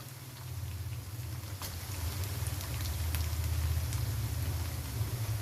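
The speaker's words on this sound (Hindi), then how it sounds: "अब मैं इसमें डाल लगी हूँ तकरीबन 4 अदद ये टमाटर डाल लगी हूँ, ऐसे करके जैसे कढ़ाई में डालते हैं।" Chopped tomatoes frying in a hot kadhai, a steady low sizzle and crackle with a faint rumble beneath, close and moderately quiet, with no voices.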